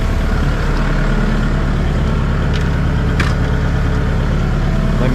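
A tractor engine idles in cold, icy farm conditions, a loud steady low rumble that runs unbroken throughout with a few faint clicks on top.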